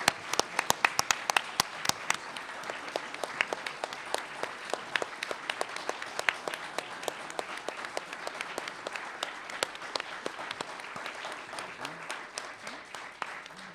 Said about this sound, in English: That's what I love, enthusiastic